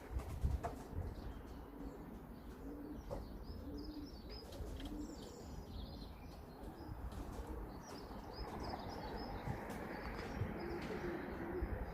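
Young pigeons in an aviary give soft, low coos now and then over steady outdoor background noise, with occasional brief wing flutters and chirps and no talking.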